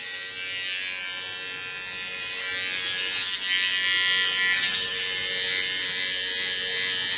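Small electric hair clipper running steadily for a close short-hair trim, a loud high-pitched continuous buzz close up, alone without talk.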